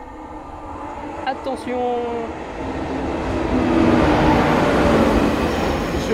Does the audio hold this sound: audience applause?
no